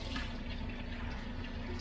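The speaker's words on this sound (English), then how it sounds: "take our jar, get some water in it, just clean it out" Running water rinses out a glass canning jar at a sink, a continuous full splash and gurgle that holds steady the whole time, close by and without talk.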